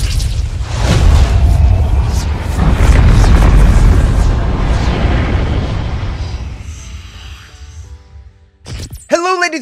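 A marksman pistol in the video game GTA Online fires one loud, booming shot that rolls into a long fading rumble, followed by a brief clatter.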